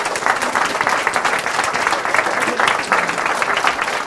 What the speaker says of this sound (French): je vous demande, pour voir si vous êtes chaud au niveau des applaudissements, d'applaudir déjà toute cette équipe